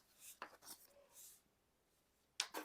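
A piece of paper being torn off by hand for a handmade journal, heard as a few short, close ripping bursts separated by quiet pauses.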